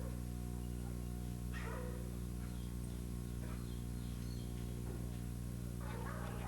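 A friendly dog gives a few soft, scattered barks and yips at moderate distance over a constant low hum, with the sounds spaced a second or two apart.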